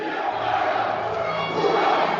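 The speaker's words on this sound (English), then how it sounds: "Good student section, good crowd." A high school student section roars and chants at a Mitchell Kernels vs Spearfish volleyball match in the SoDak 16 playoffs, making a sustained, loud crowd noise that fills the gym.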